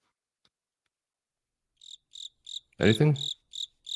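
Crickets chirp in a steady pulsing rhythm of short bursts, added as a sound effect during an online call, with a brief spoken question breaking in partway through.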